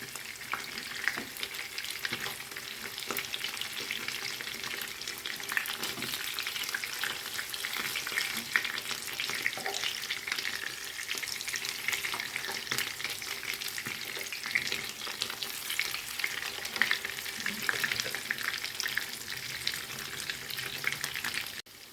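Zucchini cutlets fry in a pan with a steady, even hiss and fine crackling that continues unchanged for about twenty seconds, fairly quiet and close, with no talking.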